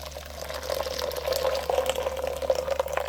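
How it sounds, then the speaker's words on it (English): Blended coconut poured from a blender into a pot while making Jamaican saltfish rundown, a steady thick liquid gurgle and splash running continuously, close and fairly loud. "just going to pour this out now"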